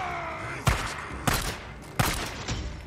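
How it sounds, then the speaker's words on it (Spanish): Pistol shots from the video game Days Gone ring out, three sharp, loud cracks spaced under a second apart, followed by a fainter fourth report, with no voices over them. "vamos a usar la pistolita para matar a esos güeyes"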